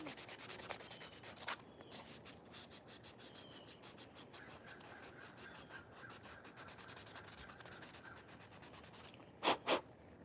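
Sandpaper rubs steadily across a custom game controller shell in close, continuous back-and-forth strokes, with a couple of sharper scrapes near the end.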